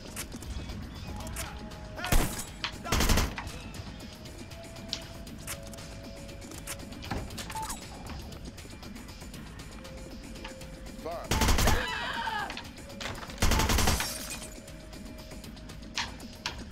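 Gunshots in the video game Hitman: Blood Money, heard as four sharp, loud reports: two close together early, then two more spaced apart later, over a low background of game ambience and mechanical clicks.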